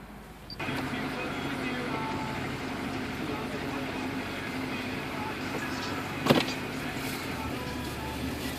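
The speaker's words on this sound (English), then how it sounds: "let me start the car" A car engine cranks and catches after a short quiet moment, then settles into a steady low idle that continues under faint background sounds, with one sharp click or knock near the end.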